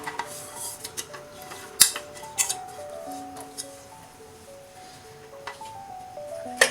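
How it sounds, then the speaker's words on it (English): Cooked white peas for ragda go into a thick-bottomed iron tawa, giving soft scattered clinks and scrapes of metal utensils with a few sharper knocks, fairly faint and close, with no talking. "I have taken an iron tawa which is thick bottom. So I'll be adding the cooked white peas."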